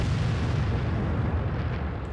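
A World of Tanks artillery shell exploding: a low, rumbling blast that holds as a dense roar for about two seconds and then fades slightly, with no voices.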